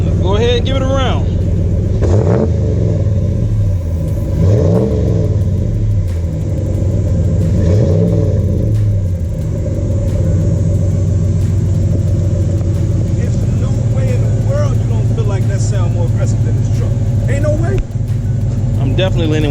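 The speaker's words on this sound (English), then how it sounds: "We can get this one back running and rev them up side by side." A 2016 Ram Sport truck's exhaust revs repeatedly in a series of rising and falling pulls over a steady deep idle rumble, loud and close, with voices talking over it.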